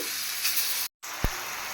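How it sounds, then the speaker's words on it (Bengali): Pieces of pangasius fish fry in a frying pan with a constant close sizzle and crackle, broken by a brief silent gap and a single soft knock of utensil against the pan. "এখন এই ফ্রাই প্যানের মধ্যে আমি পাঙাশ মাছ ভাইজা নিতেছি"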